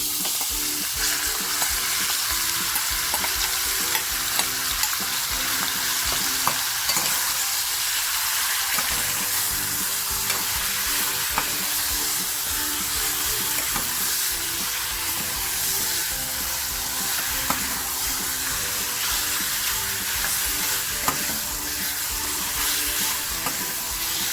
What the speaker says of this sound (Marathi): आपल्याला हे छान फ्राय करून घ्यायचं सतत आपल्याला हे फिरवत राहायचे